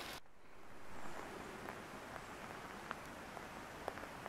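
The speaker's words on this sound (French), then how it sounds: "Ça pleut, ça pleut, ça pleut." Rain falls steadily through a forest during a damp hike, a soft, even hiss of drops on leaves with a few faint individual taps standing out, no voices present.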